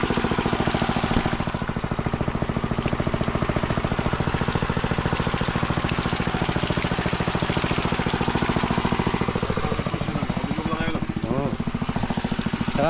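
An engine idles steadily with a fast, even mechanical chug that stays loud and constant throughout, while a faint shift in tone comes near the end.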